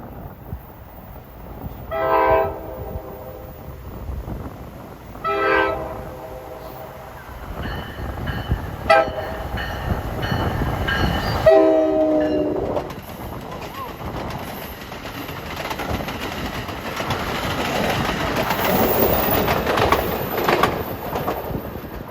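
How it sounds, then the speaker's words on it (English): Loud double-decker passenger train rounding Collins Curve, its horn sounding in three long chord blasts near the start, then the rumble and clatter of the passing cars building to a steady roar. "Coming around Collins Curve with double deckers. Let's hear how loud these horns are."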